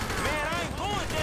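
Rapid AK rifle fire in the video game GTA V rattles in a dense, continuous burst of shots, loud and close, with someone talking over it.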